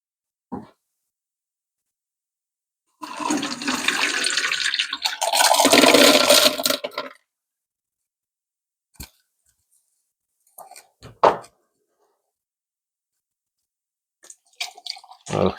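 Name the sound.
water rinsing rock tumbler drum and rocks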